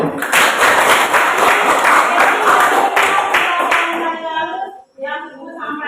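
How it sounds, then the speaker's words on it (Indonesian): A classroom of students clapping their hands in unison, loud and close, with fast rhythmic claps that taper off as a teacher's voice follows. "tepuk tangan untuk Yesi"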